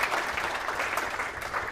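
An audience claps for faculty members at a jazz orchestra concert, a steady burst of applause filling the room throughout.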